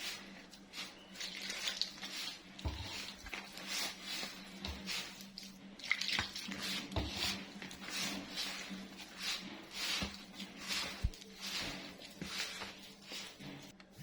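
Warm water is poured into bread dough in a home kitchen, making soft trickling and dripping sounds with irregular splashes that continue steadily and close by, with no talk over them.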